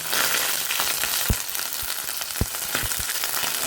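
Ground ginger paste frying in hot oil, crackling with a steady sizzle broken by several sharp, close pops spaced irregularly, with no talking.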